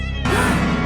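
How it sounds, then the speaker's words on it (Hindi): A cat cries loudly at night, a single sharp, tonal meow that rises suddenly and holds strong and close over a low background hum. "करीब आधी रात को रानी ने बिल्लियों के रोने की आवाज सुनी"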